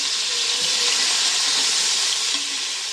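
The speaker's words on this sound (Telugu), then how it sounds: "ఇప్పుడు మనం కట్ చేసుకున్న టమాటాలు ఫ్రై చేసుకున్నాం" Chopped tomatoes fry with onions in a pan for chicken biryani, giving a continuous, even sizzle and hiss close by with no talking.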